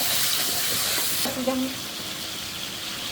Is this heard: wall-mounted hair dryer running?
no